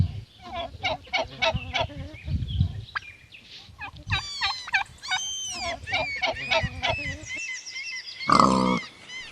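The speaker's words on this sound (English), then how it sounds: "Piglet." A piglet squeals and grunts in rapid, irregular bursts with high chirping cries, mixed with other farmyard bird-like honks, near and moderately loud with no talking.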